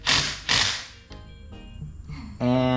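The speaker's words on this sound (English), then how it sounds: "she's putting the lug nuts back on" Lug nuts being fitted back onto a rear wheel of a Kawasaki KRX 1000 side-by-side after a brake change: two loud, close ratcheting bursts, then quieter clicks and mechanical rattles, ending with a brief voice.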